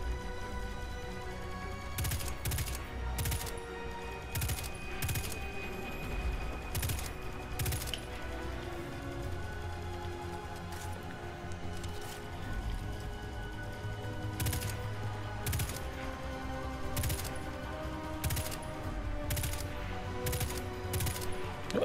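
Repeated gunshots crackle through a sustained battle between two factions in Destiny 2, set on Titan, with sharp bursts scattered irregularly over a dense, steady bed of game music and combat noise.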